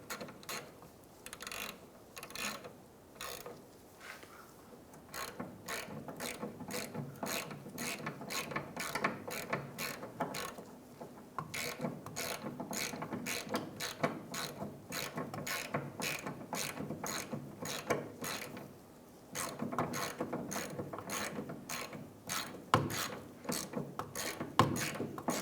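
A hand ratchet snugs up the 15mm rear strut bolts on a 2003–2011 Honda Element, giving steady rapid clicking in long runs with brief pauses, close and clear in a quiet garage.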